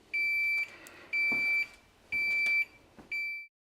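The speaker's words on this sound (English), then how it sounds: "wait for about 30 minutes for this to continue to beep" A Samsung ice maker gives four high-pitched electronic beeps during forced defrost, each held about half a second with even pauses between, faint background clatter underneath.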